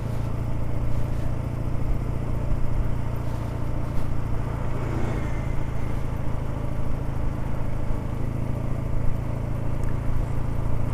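A BSA 650 A10 motorcycle being run in climbs a steep Cotswolds hill in third gear, its engine a steady, loud, low-pitched drone that continues evenly throughout with no talking.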